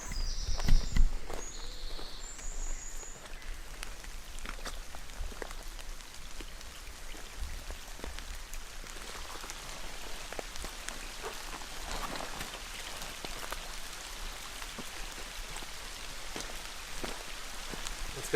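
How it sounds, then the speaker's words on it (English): Rain falls steadily in a continuous soft hiss on an outdoor hiking trail in rural County Clare, Ireland. It stays faint and even throughout, with a few scattered drips and knocks and no voices. "it's so rainy."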